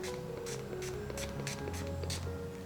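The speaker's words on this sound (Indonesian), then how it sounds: "Ini aku semprot begini buat nambahin flavor, sama biar nanti dia pas di bake itu lebih shiny lagi." A spray bottle mists stuffed mushrooms before baking, giving several short hissing spritzes in a steady rhythm, close and fairly quiet, with no one talking.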